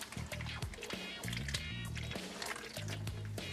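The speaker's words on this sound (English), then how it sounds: "we're going to add 1/2 cup of warm water" Half a cup of warm water pours into a bowl of yeast dough mixture, giving soft trickles and drips with a few wet sloshes, quiet and close.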